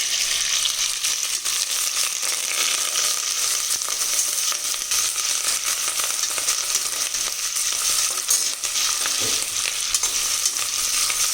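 Onion, curry leaves, ginger and green chillies fry in a pan for kichidi, giving a steady, loud, even sizzle that crackles throughout with faint stirring scrapes and no talking.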